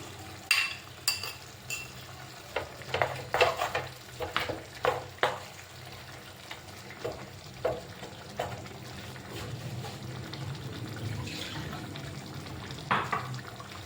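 Ground roasted coconut paste being stirred into frying chicken curry, a sizzling pan under a run of repeated stirring and scraping strokes, loudest early on, without speech.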